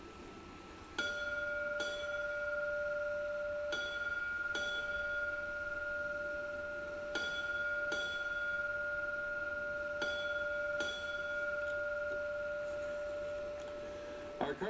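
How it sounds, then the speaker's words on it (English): A single bell is struck in slow, evenly spaced strokes at a firefighter's funeral, each clear ringing note lingering with a long sustained hum over faint background noise. "the ringing of the bell to mark the end of Walsh's tour of duty."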